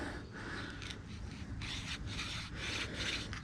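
A bow drill spindle turns against a wooden board, driven by wet nettle cord that slips; rhythmic rubbing strokes in bursts, close and fairly loud, with no talk.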